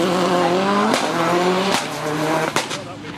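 A rally car launches off the line at a historic motorsport show, its engine note climbing through three sharp gear changes, loud and close, with a crackle at the last shift.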